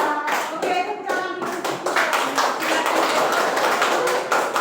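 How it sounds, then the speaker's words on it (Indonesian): A primary school class claps hands together in a classroom lesson after singing a song, loud close rhythmic claps and taps that blend into a continuous burst of applause, with some voices mixed in at the start. "Oke, tepuk tangan"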